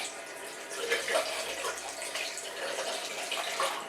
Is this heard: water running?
yes